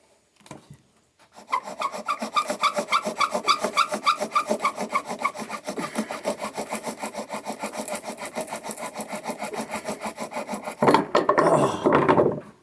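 Bow drill spindle rubbing hard against a wooden board for friction fire outdoors, a close, steady back-and-forth scraping with quick regular strokes sustained for about ten seconds, then a brief rougher burst at the end.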